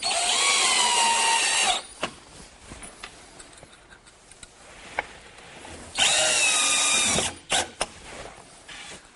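A power drill drives screws into the shelf of a Kreg router table in a wood shop, with two loud whirring bursts of roughly two seconds each close by and small clicks and handling knocks between them.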